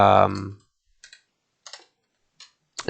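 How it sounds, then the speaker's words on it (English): Sparse clicks from a computer keyboard, three or four isolated keystrokes after a short burst of speech, close and fairly quiet with silence between. "let me finish typing it out"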